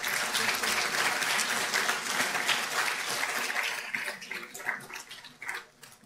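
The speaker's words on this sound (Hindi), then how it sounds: "और जोरदार तालियां।" An audience at an MSME Day 2023 ceremony breaks into loud, dense applause that carries on for several seconds and then thins into scattered claps.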